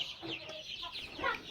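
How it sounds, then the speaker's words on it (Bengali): Native desi chicks about 22 days old on a farm give short, soft clucks and peeps in a quick scattered cluster, faint and nearby. "আপনারা যে মুরগির বাচ্চাগুলো দেখতেছেন সবগুলো দেশি মুরগির বাচ্চা"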